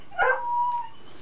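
A dog gives one short, close vocalization, a sharp yip that slides into a thin whine, heard alone in a quiet room.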